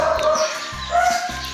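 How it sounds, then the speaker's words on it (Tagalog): A dog in a home kitchen gives a few short yips and whimpers, fairly close and loud, in two bursts with a pause between. "Ayun, aso."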